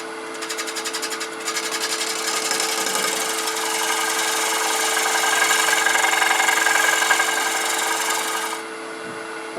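A wood lathe spinning with a negative rake scraper shaving off fine wood curls, a steady close hum with a bright continuous scraping hiss that swells slightly, then drops away near the end.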